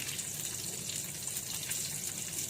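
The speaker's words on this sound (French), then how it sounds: "je vais venir le déglacer au vinaigre balsamique." Balsamic vinegar poured into a pan of honey caramel to deglaze it, a steady broad sizzling hiss close up, continuous and fairly loud with no voices.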